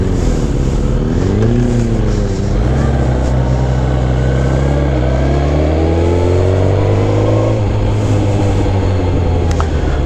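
A sport motorcycle, a Kawasaki 636 or Suzuki GSX-R 1000, revs loudly and close on the street. The engine pitch climbs and falls in sustained sweeps for about ten seconds.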